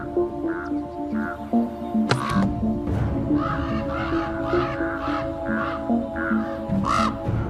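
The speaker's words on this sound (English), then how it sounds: "you can hear Mama and Daddy Raven are not very happy" Adult ravens call near their nest in Yellowstone, giving repeated loud, harsh caws at irregular intervals over a steady background hum.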